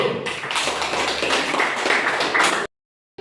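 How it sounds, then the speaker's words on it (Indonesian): Classroom applause for a student group, a close, brisk burst of many hands clapping for about two and a half seconds before cutting off abruptly. "Tepuk tangan untuk kelompok 1."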